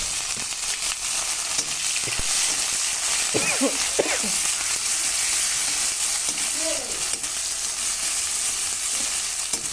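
Chopped onion dropping into hot spiced oil for a chickpea ghugni, giving a steady broad sizzle with a few brief clinks and scrapes of stirring in the middle, fairly close and continuous throughout.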